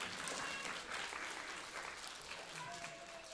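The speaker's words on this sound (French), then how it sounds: "Applaudissez, applaudissez cet enfant." Audience applause for a child at a storytelling show in a cinema, a steady mass of clapping throughout with a few faint voices mixed in.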